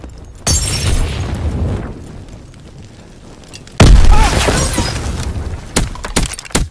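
Two loud, close booms go off seconds apart in a World War II video game, like grenades exploding. Each is followed by a rumbling tail, with smaller sharp bangs of gunfire near the end.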